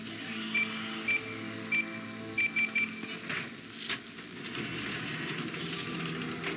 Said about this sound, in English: Stop beeping, though.